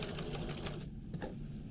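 A domestic sewing machine runs a long stitch down the side seam of a child's waistcoat, a steady close rapid clatter that eases toward the end with a few lighter taps.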